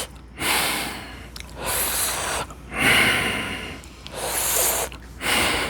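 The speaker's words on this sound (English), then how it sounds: "with your tongue out, you're going to inhale in through your mouth and exhale through your nostrils" Cooling yogic breath: hissing inhales through the mouth with the tongue out alternate with nasal exhales, about five slow, close breath cycles in a steady rhythm with no talking.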